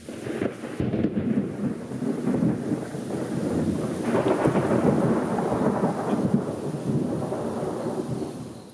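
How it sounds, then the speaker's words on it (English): Rolling thunder rumbles on and off through a continuous dry storm wash with no rain in Kruger National Park, swelling loud in the middle before easing, with no voices. "wonderful storm, but sadly no rain."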